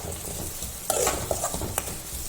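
Fenugreek seeds, with cumin, drop into hot oil in a pan for a jackfruit curry, giving a soft steady sizzle with a few light stirring clinks and taps, quiet and close.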